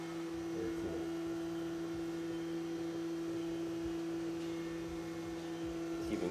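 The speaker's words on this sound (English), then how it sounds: "There's milling going on right now." A milling machine runs steadily in a machine shop, giving a constant tonal hum and whine at moderate volume with faint clicks and shop clatter around it.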